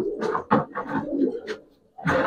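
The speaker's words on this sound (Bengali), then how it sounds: "দেখুন কবুতর" Close, soft cooing from a Giribaz silver pankhi pigeon, several throaty rolling coos in a row with a short pause before a final coo.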